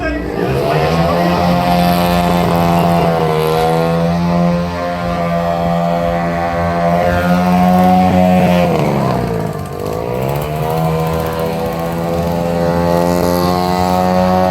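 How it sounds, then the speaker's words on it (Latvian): Motorized vehicles from the Jelgava technical school pass at a city festival, with a loud, close engine drone that holds steady, dips briefly twice and then revs back up. "Ar dažādiem motorizētiem transporta līdzekļiem Jelgavas tehnikums mums pārsteigts."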